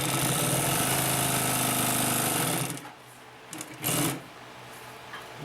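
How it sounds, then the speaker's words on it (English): A Consew P1255RB industrial sewing machine runs loud and steady for nearly three seconds, then stops, leaving quiet handling noise and a couple of brief bumps. "Now we're going to get into a little bit heavier sewing."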